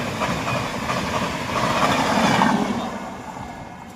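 An express train on the Tatanagar to Jammu Tawi route rumbles steadily along the rails as it is switched into a loop line. Broad rolling noise with faint wheel clatter stays loud throughout, swelling slightly midway. No one speaks.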